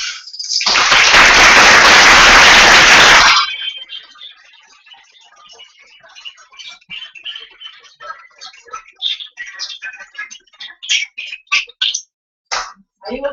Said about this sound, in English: I invited everyone to make a warm applause to them all